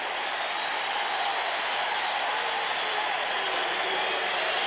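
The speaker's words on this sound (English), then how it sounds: "The crowd is arising." Football stadium crowd at a San Diego at Philadelphia game, a continuous broad roar of cheering that fills the whole clip, loud and steady without breaks.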